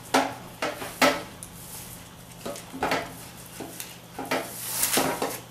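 Flour-dusted, dough-wrapped garlic sausage (saucisson à l'ail) slides onto a baking pan in a kitchen, with soft scrapes and several light, close clanks of the metal pan spaced irregularly through a quiet room.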